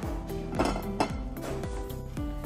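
A metal tava set on a gas stove before oil goes in for Goan chicken cafreal clanks and rings in several close, sharp metallic knocks with lingering resonance, no voices.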